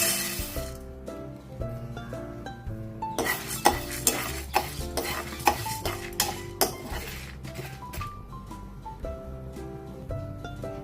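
Dried red chillies dry-roasting in a pan on the stove while being stirred, for sambar; repeated scraping and clinking strokes of a spatula against the pan sound close, under steady background music.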